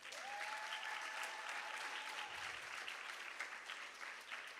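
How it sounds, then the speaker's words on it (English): An audience at a junior school graduation ceremony giving the teachers a round of applause, steady, full clapping throughout with a faint whistle or cheer near the start. "So I would like everyone to give the teachers of Alpha Junior School a round of applause"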